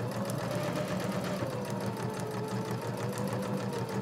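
A sewing machine stitches around the last corner of a fabric soap holder, its motor running in a steady, even whir close by, with no other sound.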